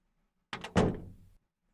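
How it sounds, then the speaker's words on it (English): A door closes in the Steins;Gate 0 visual novel, a short double knock-like thud followed by a heavier slam that decays over about half a second, heard alone against near silence. "The door closed and I could hear her footsteps trail off into the distance."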